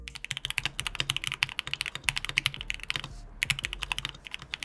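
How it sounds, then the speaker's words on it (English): Rapid, steady typing on a custom-built mechanical keyboard, close and crisp, with clacky keystrokes and a brief pause midway, no voices. "walk you through building your own mechanical custom keyboard"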